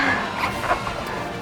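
A scent-tracking dog arrives at speed after following a fresh trail, giving a short burst of loud, close barking and yipping that is over within a moment.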